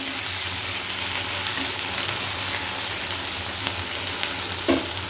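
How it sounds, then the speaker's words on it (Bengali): Potatoes fry in a covered pan, giving a steady, dense sizzle that carries unbroken and fairly loud from start to finish, with a single soft knock near the end and no voices. "এবার এটা একটু ঢাকা দিয়ে দেবো, যাতে তাড়াতাড়ি ভাজাটা হয়ে যায়"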